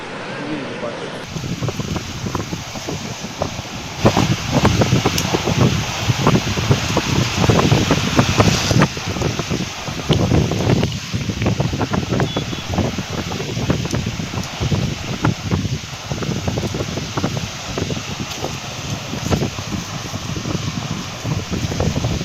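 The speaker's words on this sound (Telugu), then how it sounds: "ముఖ్యంగా కాగ్నా నది ఉధృతంగా ప్రవహిస్తుంది" The Kagna river in flood during torrential rain, a loud, steady roar of rushing water that continues without a break.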